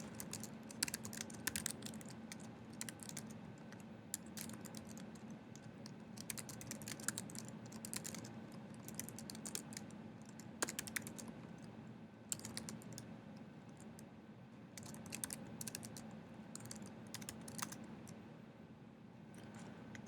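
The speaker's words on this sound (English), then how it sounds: "I did use this command, and I'll go ahead and type that in for you." An OpenSSL command typed on a computer keyboard: a steady run of quiet, close key clicks in uneven bursts, with no talking.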